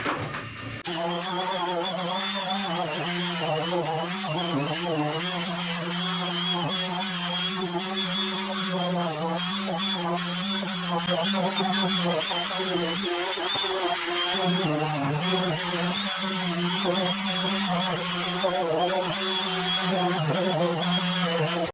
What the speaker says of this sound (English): I'm gonna start sanding on this side